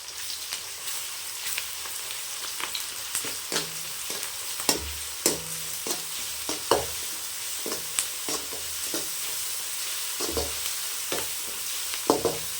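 Onions frying with ginger garlic paste in a pan for goat intestine fry, a steady close sizzle broken by repeated spatula scrapes and stirring knocks at an uneven rhythm, no voices.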